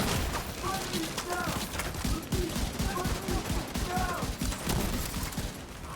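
Gunfire in Tom Clancy's The Division 2, a dense run of sharp shots and bursts through most of the stretch, with a voice talking over it.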